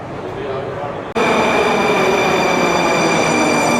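A metro train roars loudly through an old underground station in Moscow, a sudden surge of rumble and high whine that holds steady after a brief quieter moment.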